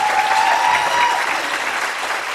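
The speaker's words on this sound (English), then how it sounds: "Let's give him another round of applause." Audience at a Christmas concert applauds in a dense, loud, sustained wash of clapping, with a faint whistle or cheer briefly rising within it.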